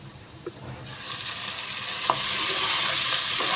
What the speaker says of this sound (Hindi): तो प्याज डाल दिया मैंने, तकरीबन ये 2 प्याज है दरमियाने साइज़ के